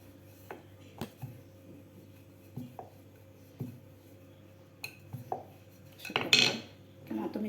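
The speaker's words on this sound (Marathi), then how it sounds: "चाकून सुद्धा चौकोन कापून घेऊ शकता अशा प्रकारे" A knife cuts rolled dough into squares on a hard surface, a series of sharp taps and scrapes at an uneven pace, close and quiet, with no speech.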